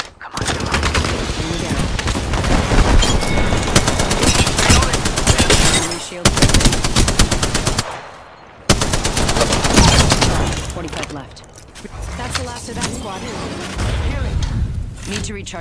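Heavy automatic gunfire strikes the player in Apex Legends, dense loud bursts running almost nonstop with short gaps and a brief lull, mixed with game effects.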